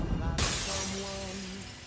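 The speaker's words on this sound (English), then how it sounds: "the mug shattering against the door" Film sound effect of a ceramic mug shattering against a door: a sudden bright crash of breaking pieces after a brief low moment, then a ringing, scattering decay that fades over a second or so.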